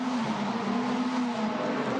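Norbert Mikulits's WTCC touring race car accelerates hard out of the final corner onto a green flag at a Japanese circuit, a steady loud engine drone with a sustained rising tone and no voices.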